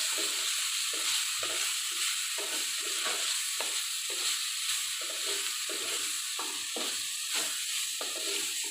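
Bitter gourd fries in a pan with salt while a spoon stirs it in rhythmic scraping strokes over a continuous loud, close sizzle, with no talk.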